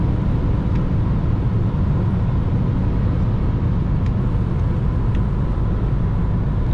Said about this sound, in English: The acceleration, full throttle now on 6th.